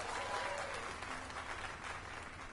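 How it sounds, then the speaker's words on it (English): Crowd applause in the video game Dragon's Dogma 2, a steady wash of clapping from many hands that holds evenly throughout, with no voices over it. "Let us give a round of applause for young Fulvio"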